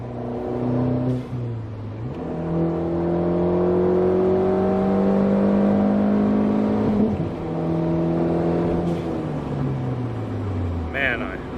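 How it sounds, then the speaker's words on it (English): A Ford Fiesta engine accelerates through higher gears, its droning note rising steadily in pitch, dropping at each shift and climbing again, loud and close from inside the car. "I like the way this thing pulls even in higher gears."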